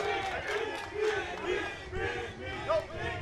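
A crowd at an American football event with Miami Dolphins player Tyreek Hill roars and shouts in surging waves, loud and continuous, with voices swelling together throughout.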